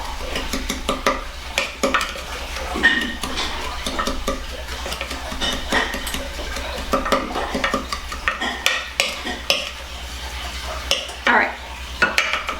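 Cinnamon and brown sugar being stirred together in a bowl, a steady run of close scraping, clinking strokes that continues throughout, with a brief spoken word over it.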